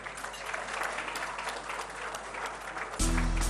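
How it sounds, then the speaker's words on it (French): An audience at an awards ceremony in Mali applauds a bank receiving its prize, a dense, even wash of many hands clapping for about three seconds before a steady low hum takes over at the end. "mesdames, messieurs, ça mérite des applaudissements"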